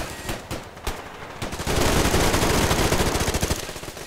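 M4 rifle fire in the video game Survarium: scattered single shots at first, then a sustained rapid automatic burst, loud and close with a steady rattling rhythm.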